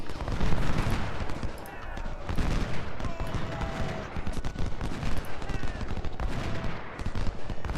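Massed musket and cannon fire from a Civil War battle in the strategy game Ultimate General: Civil War, a dense, continuous crackle of overlapping volleys with sharp bursts that keeps going without pause.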